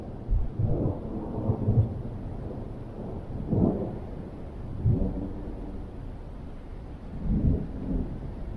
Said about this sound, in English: There's still rumbling thunder and the sky is dark gray.